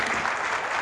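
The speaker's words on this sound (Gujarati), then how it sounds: "જોરદાર તાળીઓ શાસ્ત્રી સાહેબ માટે" A crowd applauds steadily for a guest at a Gujarati poetry event in Godhara, the dense clapping sustained and even throughout the short burst.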